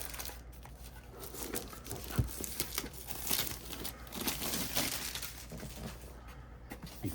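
Box packaging being opened with an X-Acto knife for a Rolife Steam Journey kit, giving steady crinkling and tearing of card and plastic with a few sharper crackles, close up and with no talking.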